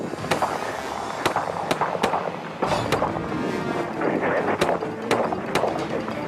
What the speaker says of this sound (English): then opens fire as the suspect escapes